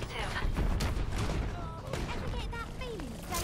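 Rapid gunfire in Overwatch, dense continuous bursts of shots with scattered impacts and whistling effects throughout, loud and close.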